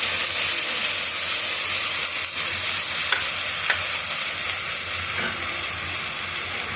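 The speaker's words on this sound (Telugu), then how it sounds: "ఇప్పుడు ఆనియన్ పేస్ట్ కూడా వేసేస్తున్నామండి" Onion paste frying in hot oil with cumin and ginger garlic paste, a loud, continuous close-up sizzle with faint scraping stirs breaking through now and then, no voices.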